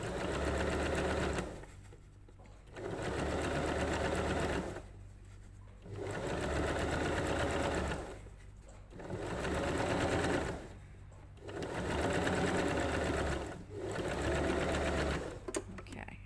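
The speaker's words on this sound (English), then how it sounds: "catch that fold when it does the big zigzag stitch" A sewing machine runs a blind hem with a wide zigzag stitch in five steady whirring bursts separated by short pauses, close and fairly quiet.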